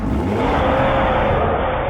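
A 2020 Audi RS Q3 Sportback engine holds a loud, rough, sustained rev with a slightly rising tone, close and alone.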